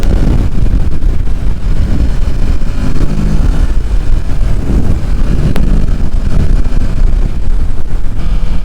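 A 2023 Kawasaki Ninja 650 ridden aggressively, its engine a steady loud roar heavily mixed with constant wind rush across the microphone, with no distinct gear changes standing out.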